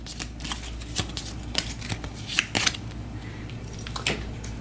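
Cards being shuffled during a game of Aeon's End, a cooperative deck-building board game: a run of crisp riffling bursts and snaps, close and fairly quiet, with no talking.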